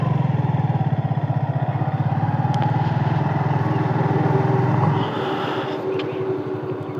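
Motorcycle engine running close by as the bike is parked near a railway station, a loud pulsing idle that drops to a quieter steadier rumble partway through.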